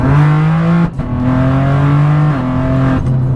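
A BMW M4 converted into a pickup truck revs its turbo engine loud and close, a droning tone that climbs and shifts in pitch with short gaps between gears.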